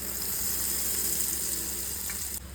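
Hot oil hisses in a steady, broad sizzle as spoonfuls of egg pakoda batter go into the pan, constant and fairly close, ending abruptly.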